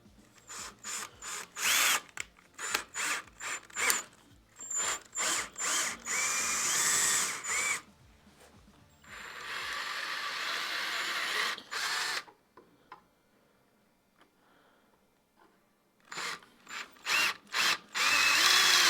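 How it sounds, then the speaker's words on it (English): A power drill bores into an electric guitar body in repeated short, sharp bursts with brief pauses between them. A longer steady run sits in the middle, and the drilling is close and loud with no talking. "drilling time."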